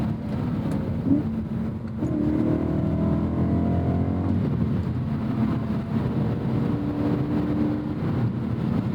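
Engine of a 2010 BMW M3 E90 with its V8 snarling under hard acceleration, a steady, loud low rumble with rising harmonics heard from inside the car, with wind noise over it.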